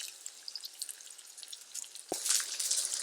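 Onion and garlic fry gently in a little oil, a faint crackling sizzle that swells louder after a sharp tap against the pan.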